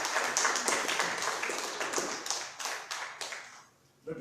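A church congregation claps for the Lord at a Spanish-language service, a dense, steady wash of many hands close by that thins out toward the end.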